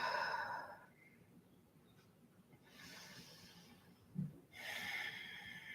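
Deep breathing during a hamstring stretch: a slow breathy exhale at the start, then quiet, a soft inhale, and another long audible exhale near the end, all close and faint, no talk.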